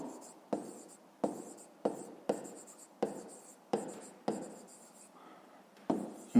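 Numbers are written by hand, probably in a fifth-grade math exercise. Rhythmic scratching strokes of pen or pencil on paper repeat about every half second, each stroke short and close.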